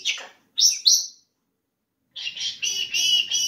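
A person's voice imitates a small bird chirping, giving a few quick high tweets, then a short pause and a run of repeated peeps, close up and alone.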